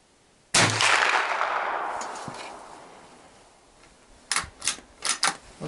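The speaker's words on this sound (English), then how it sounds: "I'm just gonna pop in another round in there." A single sharp report from a Savage .22lr rifle with a Tasco scope rings out and decays, followed a few seconds later by quick metallic clicks of the bolt working.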